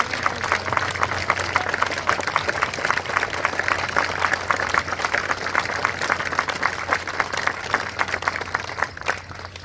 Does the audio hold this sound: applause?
yes